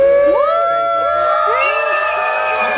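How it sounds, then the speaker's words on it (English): A live audience at a stage performance screams and cheers on cue, producing a loud burst of overlapping high, gliding whoops and shouts that holds for the whole moment. "when I touch my forehead, you're supposed to scream like it's the greatest thing on earth"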